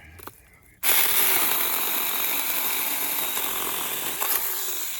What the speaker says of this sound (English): It don't slow this little saw down